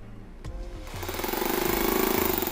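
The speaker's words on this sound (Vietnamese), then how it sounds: "Chức năng khoan bê tông." A Bosch hammer drill switched to concrete drilling mode starts up with a few trigger clicks, then spins into a rapid, rattling hammering buzz that grows louder and steadier, close by, with no talking.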